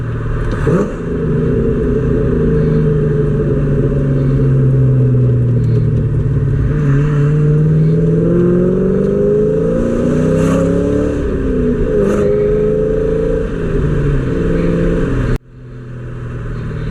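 A 1999–2004 New Edge SN95 Mustang GT engine drones steadily from inside the car while driving, with rising and falling revs through a corner; loud and continuous, ending in a brief drop.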